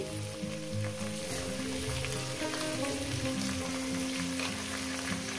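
Salted potatoes fry in hot oil, a steady, close sizzle with soft stirring, continuous and fairly even throughout.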